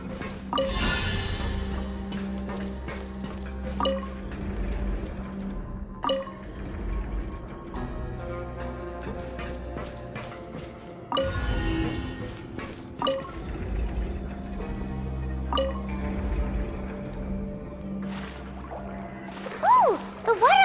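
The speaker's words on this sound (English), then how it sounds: "the water level's gone way up!" Water rising and filling a chamber in a video game, a continuous liquid rush with scattered drips and splashes and occasional louder gushes, moderately loud and steady throughout with no speech.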